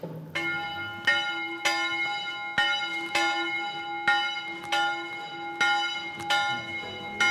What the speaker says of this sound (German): Ah, heute kann man hier läuten.